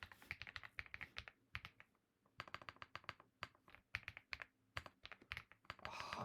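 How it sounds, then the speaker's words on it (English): Rapid keystrokes on a computer keyboard, close and clear, in uneven bursts with short pauses, alone without speech. "My typing, bro."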